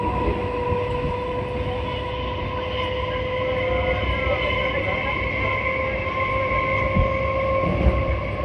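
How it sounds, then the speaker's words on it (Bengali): A local train runs near New Garia station with a steady, loud rumble of wheels on rails and sustained tonal whines, plus a couple of brief knocks near the end, with no voices. "আমাদের ট্রেন এসে পৌঁছালো নিউ গড়িয়া স্টেশন।"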